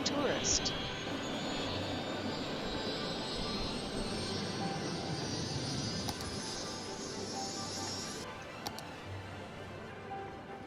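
A fixed-wing airplane in the city-building game Cities: Skylines flies steadily with a constant engine drone and a slowly rising whine, heard continuously and fairly close throughout, with no talk over it.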